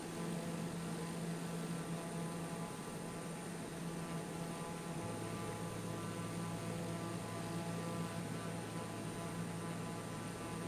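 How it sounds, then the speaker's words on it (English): Steady droning propeller hum of a general aviation airplane in Microsoft Flight Simulator 2020, a continuous bee-like buzz heard from outside with no talk, its low tone shifting slightly partway through. "Does sound like a bee on the outside, this airplane."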